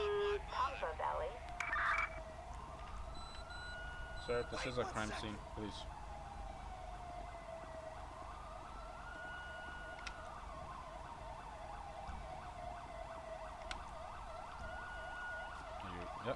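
Ambulance siren in GTA V on a rainy patrol, a rising and falling wail that sweeps up and down repeatedly over steady rain hiss, with someone speaking briefly near the start.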